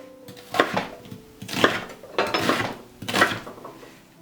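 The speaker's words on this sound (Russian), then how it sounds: "Произвольно нарезаем лук." A knife chops onion on a cutting board in four separate bursts of dull knocks and scraping, close and fairly quiet, with brief pauses between them.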